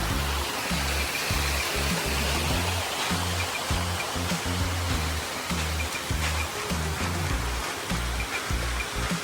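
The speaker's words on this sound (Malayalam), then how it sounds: "ഇതുപോലത്തെ ചെറിയ വെള്ളച്ചാട്ടം കാണാൻ പറ്റും കേട്ടോ" A small waterfall, Alakapuri (Kanjirakolli) Waterfalls in Kannur, rushes steadily and loudly nearby, a constant wash of splashing water with no pauses.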